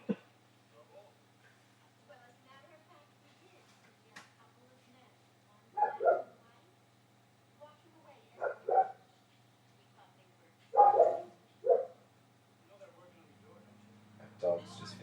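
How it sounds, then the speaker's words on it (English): A dog in a 1991 horror film scene barks and yips in short bursts, with whimpers between, over a quiet low hum; a voice speaks briefly near the start. "That dog's just finished chewing that hand."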